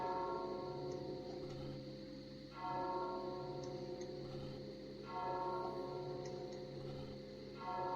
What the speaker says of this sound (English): And we need to strike bell